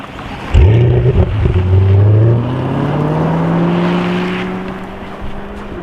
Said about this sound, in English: And when it's floored, the V8 kicks in, bringing the almost 500 horsepower and 500 pound-feet of torque from the rear.